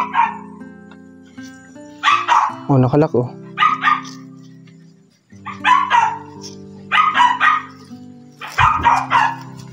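Dogs bark repeatedly inside a house in sharp clusters with yips and whimpers between, fairly close, while a person briefly speaks.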